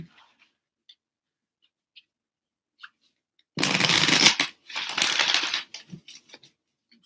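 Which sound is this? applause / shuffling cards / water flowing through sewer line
shuffling cards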